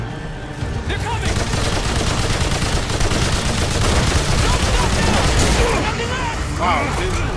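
Rapid gunfire from shooting in Remnant 2 crackles continuously in dense, loud bursts with impacts and booms layered in, while a voice talks over the action.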